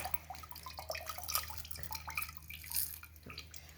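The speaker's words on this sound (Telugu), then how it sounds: "ఇవన్నీ కడుగు నీళ్ళు పోసేస్తాం." Quiet splashing and dripping of water being poured, irregular trickles and drops close by against a low steady hum.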